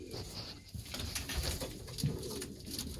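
Pigeons cooing softly inside a home loft holding a dozen or so birds, low murmuring coos repeating through the clip with faint rustling, close by and no talk.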